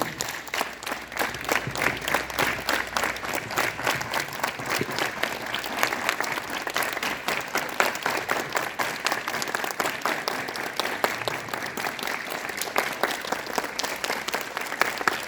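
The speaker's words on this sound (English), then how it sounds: "Clap together" Students at a school assembly clap in unison, a loud, fast, steady rhythm of sharp claps that continues for the whole stretch with little variation.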